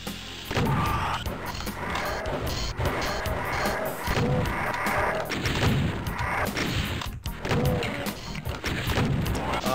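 Repeated shotgun blasts in Doom running in DOSBox, heavy booming shots fired in quick succession alongside game music and monster noises, loud and near throughout.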